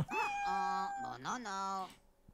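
A cat meows in the video game GrandMa Badass, with two or three close, drawn-out meows in quick succession and then quiet.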